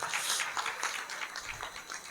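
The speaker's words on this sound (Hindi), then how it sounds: "बजा सकते हैं तालियां" Audience applause from a crowd at an Arya Samaj gathering, a steady wash of many hands clapping at moderate volume for about two seconds, with no clear pauses.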